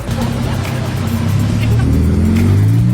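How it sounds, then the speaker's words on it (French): A Ferrari SF90 with four exhaust outlets accelerates away on a Monaco street, its engine note rising loud and close, then climbing in pitch as it pulls off. "Et on va la voir partir avec ses 4 sorties d'échappement"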